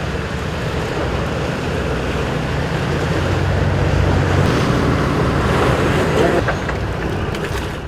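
Wind and rough sea waves roll and hiss around a fishing boat catching yellowtail off Chuja Island in winter, a steady, broad roar, loud and close to the microphone with no clear break.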